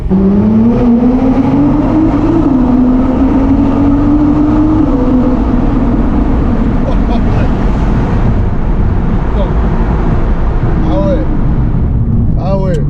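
A Nissan GTR Nismo cruises through town, its engine droning steadily with a rising then settling tone over continuous road and wind noise, while people talk inside the car.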